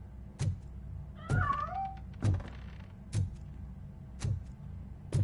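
A cat in RoboCop: Rogue City gives a short, clear meow between evenly spaced heavy thuds, like footsteps or knocks, that repeat about once a second.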